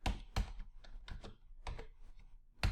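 Keys on a computer keyboard are tapped one at a time in an irregular sequence while a password is entered, soft close clicks with uneven pauses and a few firmer strikes.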